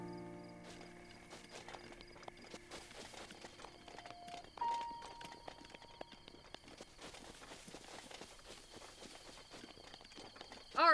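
Horse hooves clip-clop at a walking pace in Zelda: Breath of the Wild, soft and steady at middle distance over game music and ambience, ending in a louder burst.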